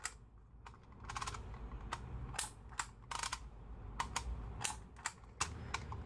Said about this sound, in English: This tool helps you make your own labels and the letters are all embossed.